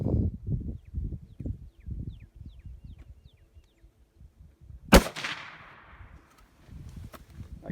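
A single loud, sharp rifle crack from a Remington 700 chambered in 6.5 Creedmoor, fired outdoors while hunting, with a bright decaying tail; murmured voices come before and after the shot.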